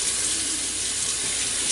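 Tap water runs steadily over a whole raw chicken in a sink, a continuous close hiss and splash with no voices.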